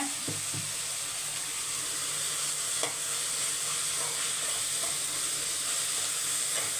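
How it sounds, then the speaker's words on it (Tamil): Steady sizzling and hissing from a hot pan, with occasional stirring scrapes and clinks over the continuous frying noise. "நல்லா வதக்கிக்கோங்க"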